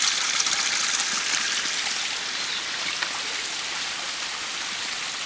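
Water pours continuously from a spout fed by a mountain stream, a steady close rushing and splashing that stays even throughout with no voices.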